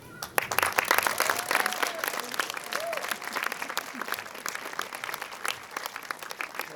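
A graduation audience at a high school ceremony breaks into sustained applause, dense clapping from a large crowd heard at a moderate distance, with faint voices underneath.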